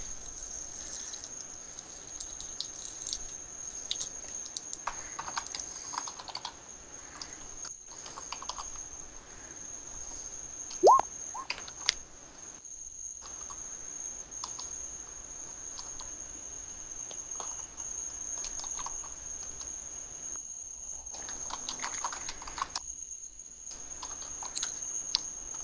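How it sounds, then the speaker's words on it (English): Light, scattered keystrokes on a computer keyboard come in short bursts, fairly faint, beneath a constant high-pitched insect-like drone. "I hear typing."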